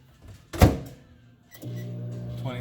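A microwave oven door shuts with one loud thunk in a home kitchen while cream cheese and butter are softened, followed by a steady low hum of the oven running.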